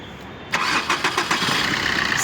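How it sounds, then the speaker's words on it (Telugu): A 2018 Maruti Brezza ZDi+ diesel car starts on a single crank: a short whir of the starter, then the engine catches and settles into a steady, close idle with a few small pulses. "సార్ ఇంజిన్ అనేది ఆఫ్ చేసి మళ్ళీ ఆన్ చేస్తాను చూడండి"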